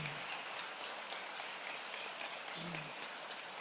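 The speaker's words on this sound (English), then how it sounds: "yes, give them applause" A crowd applauds steadily for former governors at a state address, an even wash of clapping heard at a moderate distance.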